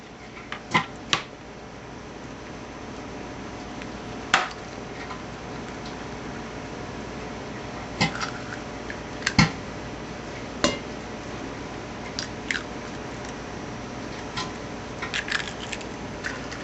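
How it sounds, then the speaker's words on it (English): Sharp, sparse clicks and taps ring out over a steady kitchen hum as three raw eggs are cracked into a bowl of homemade cornbread dressing, scattered across the stretch with a small cluster near the end. "now we're going to crack and put in 3 raw eggs"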